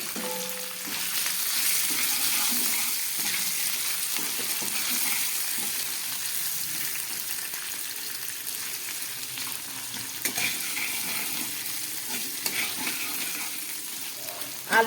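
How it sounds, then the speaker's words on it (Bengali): Boiled potato fries in a pan, giving a continuous close sizzle with occasional stirring scrapes and clunks, louder at first and then settling into a steady crackle. "দিয়ে দিচ্ছি একটু সিদ্ধ করে রাখা আলু।"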